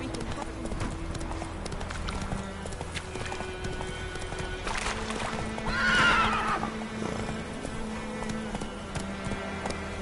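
A horse in The Witcher 3 gallops with steady clip-clop hoofbeats and lets out one loud whinny partway through, with game ambience behind it.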